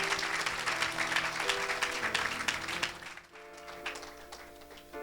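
An audience at a French-language evangelical revival service applauds loudly and steadily for about three seconds, then the clapping thins into scattered, quieter claps under a sustained organ-like musical backing.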